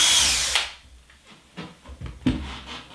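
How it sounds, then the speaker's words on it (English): A power drill bores slowly through a hinge into the edge of a framed window screen, a close, steady whine that fades into softer grinding and a few bumps of handling. "just to drill through nice and slowly into the"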